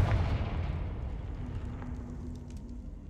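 Confringo blasting spell explosion in the Hogwarts Legacy video game, a low rumbling blast that opens loud and gradually decays into a fading roar with no speech.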